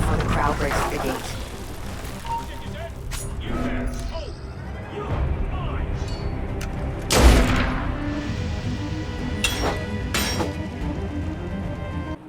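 Cannons firing during a battle in the video game Assassin's Creed Unity, with a few loud booms, the strongest midway, over crowd noise and game chatter, and voices talking throughout.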